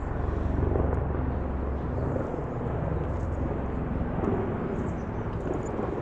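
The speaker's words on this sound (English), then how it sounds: "it sounds like a helicopter" A helicopter drones overhead at Stanley Park with a steady, deep thrumming rumble that swells slightly and fades, persistent throughout and moderately distant.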